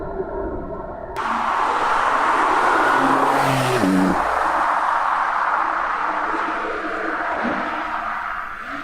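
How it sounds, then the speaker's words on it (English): A Porsche sports car engine in Sport Plus mode with manual shifting revs up loudly and holds a strong, sustained roar, then settles into a steadier drone. "I've just put the car in Sport Plus, and I'm going to put it in manual."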